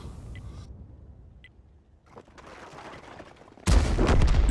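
Artillery fire in a tank battle video game, a few faint thuds at first, then a loud close blast that rumbles on to the end.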